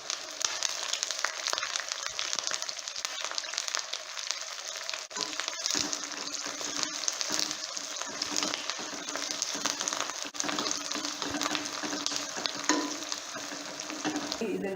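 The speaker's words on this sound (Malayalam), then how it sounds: "ഇനി ഇത് ഈ ചൂട് എണ്ണയിൽ കിടന്ന് ബാക്കിയുള്ളത് ക്രിസ്പായിട്ട് വന്നോളും" Dry red chillies and curry leaves fry in hot oil for a raw mango curry, a steady, dense crackling sizzle that runs close and unbroken the whole time, with occasional stirring scrapes and no voices.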